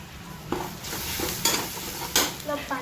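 Okra frying in a pan gives a steady sizzle, broken by a few sharp scrapes and clanks from stirring, with no voices.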